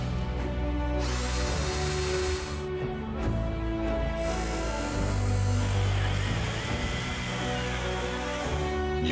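A Parkside 20-volt cordless drill driver whirs in sustained, slightly varying bursts, mixed with a musical background, loud and close.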